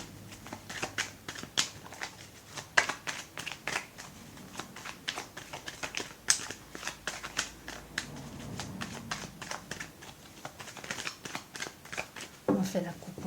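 A deck of cards being shuffled and cut, giving rapid riffling flutters and crisp snaps in repeated bursts, close and soft, while a voice speaks quietly over them.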